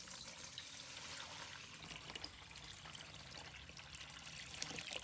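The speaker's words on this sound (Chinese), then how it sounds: "再倒入清水。" Clean water poured steadily into a bowl of soaked white fungus (tremella) after it has been drained, a continuous close splashing trickle with no voices.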